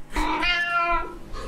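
A cat gives a single drawn-out meow, close and fairly loud, lasting about a second with no talking over it.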